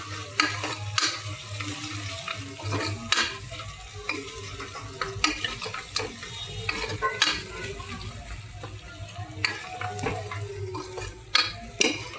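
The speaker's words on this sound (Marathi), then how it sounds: "आता याच्यामध्ये मस्त एकदम अद्रक लसूणची पेस्ट भाजून घेणार" Ginger-garlic paste fries in a pot for a Kolhapuri usal, a moderate sizzle broken by repeated spoon scrapes and clinks against the metal as it is stirred, no talking.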